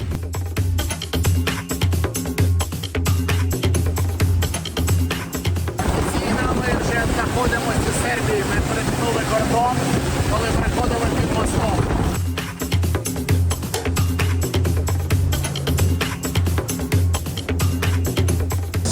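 A Sea-Doo Explorer 170 jet ski engine drones steadily on the Danube River, while wind rushes and water churns loudly through the middle stretch before the motor hum returns.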